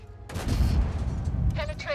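A tank's main gun fires once in World of Tanks, a loud booming blast with a long rumbling tail, followed by faint radio-style game chatter.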